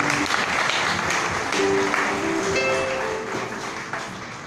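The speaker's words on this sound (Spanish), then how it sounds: "un aplauso para la maestra Jenny." An audience gives a short round of applause for teacher Jenny at a gathering, brisk clapping that fades a little toward the end, with a few faint ringing tones mixed in.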